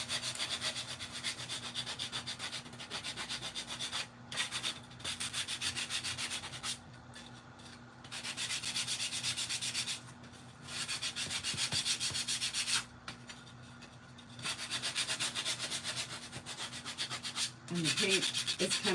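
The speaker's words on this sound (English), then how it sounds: "Not taking too much to sand the edges." Steady sanding strokes rub paint off the edges of a small sea turtle craft piece, continuous close scratchy friction broken by a few short pauses, with no talking.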